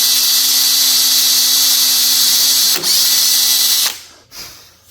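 A power drill spins loud and steady as it bores a starter hole in an outdoor bench, a constant whine that briefly dips, then stops abruptly and leaves faint clatter.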